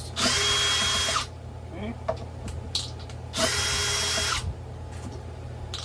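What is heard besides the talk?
power drill removing bolts on Onewheel Pint X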